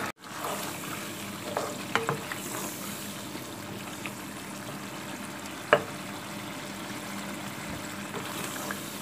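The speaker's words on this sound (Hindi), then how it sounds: "अब हम गोश्त को अच्छी तरह भून लेंगे।" Meat is stir-fried in a pan for an arvi gosht curry, a faint steady sizzle with occasional scraping clinks of a spoon against the pan, no talking.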